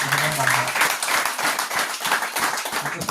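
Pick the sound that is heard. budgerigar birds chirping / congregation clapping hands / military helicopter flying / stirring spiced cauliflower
congregation clapping hands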